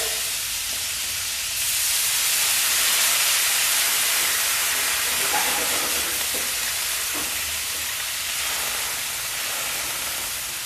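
White wine hits a hot pan of seafood pasta, raising a loud, steady hiss of steam and sizzle that swells after a second or two and holds, with no talking.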